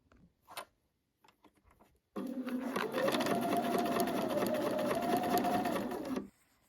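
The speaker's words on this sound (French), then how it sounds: "vous allez donc coudre à ce moment-là au point droit" A sewing machine runs a straight stitch at a set stitch length of 3, a steady continuous whirring drone with a fine mechanical tick that lasts about four seconds after a few faint clicks and shuffles.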